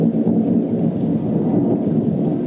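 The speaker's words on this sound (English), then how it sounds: "The thunder gets louder and louder, cutting through the veil." Thunder and rain sound effect: a continuous heavy rain wash with deep rumbling thunder underneath, loud and steady throughout, with no speech.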